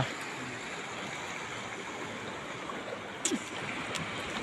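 The Tunga river runs swollen with heavy flood water, giving a steady, even rushing wash of flowing water heard from a short distance, with a faint splash or two and no talking.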